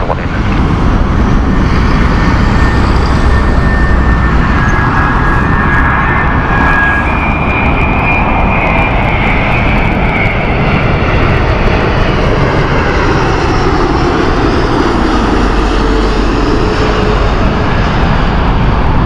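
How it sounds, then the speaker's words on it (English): Delta Airbus A330neo jet airliner at Heathrow, its engines roaring loud and steady throughout with a broad rumble and faint whine, no voices. "A330 Neo there."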